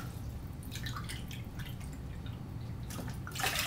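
Bottled water is poured into a container in a kitchen. A faint, soft trickle and dripping run under a low background hum, ending in a brief louder splash.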